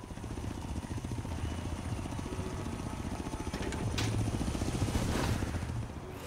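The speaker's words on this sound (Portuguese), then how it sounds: "Não é um helicóptero?" A helicopter in the video game Forza Horizon 3 drones with a steady rotor and engine thrum that swells slightly louder partway through, heard alone.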